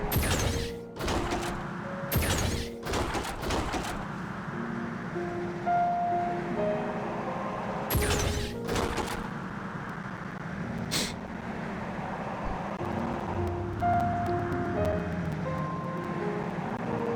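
A car being driven in Final Fantasy XIV Endwalker, a steady low engine hum running throughout with a few sharp transient bursts and brief tonal chimes layered over it, no talking.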